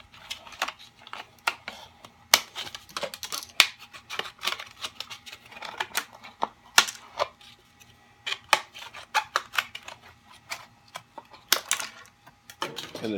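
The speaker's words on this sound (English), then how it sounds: "And then just cut them up in strips." Scissors snip through HDPE plastic bottles to cut them into strips, giving a long run of crisp, irregular close-up cuts and crunches with short pauses in between.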